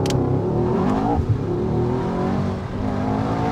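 A Mercedes-AMG S63 E Performance pulls away from a standstill, its engine note rising steadily as it accelerates, heard from inside the cabin.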